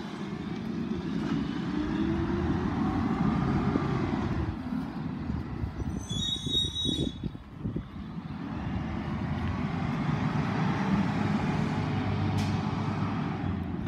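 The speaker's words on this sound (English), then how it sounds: "Garbage truck." Garbage truck in Gilbert working nearby with a loud rumbling engine, a hiss and high whine of hydraulics midway as the load is handled, then the engine droning on.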